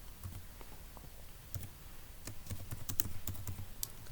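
Quiet, close keystrokes on a computer keyboard, irregular clicks picking up into a denser burst of typing toward the end, with no voices.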